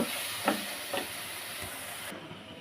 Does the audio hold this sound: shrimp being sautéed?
yes